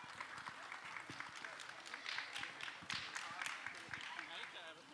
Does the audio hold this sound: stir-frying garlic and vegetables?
no